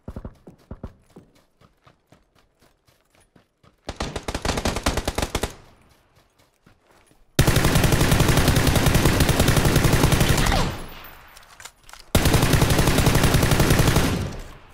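Rapid gunfire erupts in a PUBG match, a long sustained burst of automatic fire and a later burst, loud and dense, preceded by lighter rhythmic clicking and footsteps.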